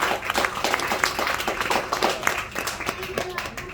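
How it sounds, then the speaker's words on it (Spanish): Applause and clapping from a church congregation giving praise during a service, a scattered, uneven patter of hands with a voice speaking over it. "Den un aplauso al Señor"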